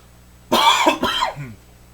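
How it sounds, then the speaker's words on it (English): A person coughs twice in quick succession, close and fairly loud, with a quiet room hum behind. "Sorry, I had to cough there."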